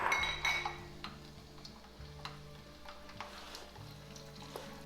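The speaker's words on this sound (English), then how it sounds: "Now we're gonna put in all the spices and herbs. Let it cook for about 2 minutes." Spices and herbs fry in hot high smoke point oil for Chinese chili oil, a steady soft sizzle with occasional light clinks of a utensil against the pot, no talking.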